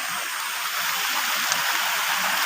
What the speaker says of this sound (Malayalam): തോട് ഒഴുകിക്കൊണ്ടേ ഇരിക്കുന്നു.